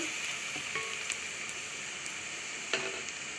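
Onions sizzling steadily in a pan for green chicken curry, a continuous hiss with occasional crackles and the scrape of stirring, no voices over it.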